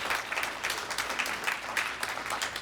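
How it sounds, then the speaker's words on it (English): An audience at a 75th anniversary banquet gives a steady round of applause, many hands clapping together without pause for a few seconds. "let's give these folks a round of applause for their service."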